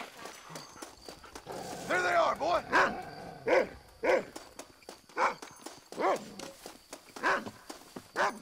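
Dog barking in the Western video game Red Dead Redemption, a series of short, sharp yelps repeating at a steady pace, close and fairly loud, with horse hooves clip-clopping underneath.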